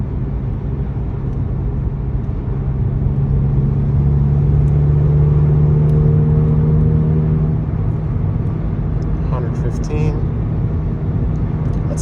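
A car fitted with a TCR muffler and downpipe cruises at highway speed, around 100, producing a loud, steady exhaust drone and road rumble that holds for the whole stretch.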